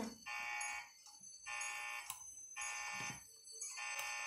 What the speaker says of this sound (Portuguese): Tocou o alarme, hein?